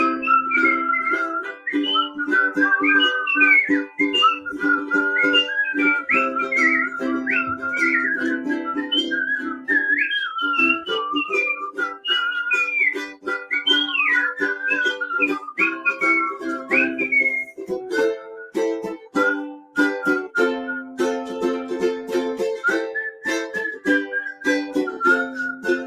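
A person whistles a lilting, continuous tune with bending melodic phrases, close and clear, steady for the whole stretch with no talking.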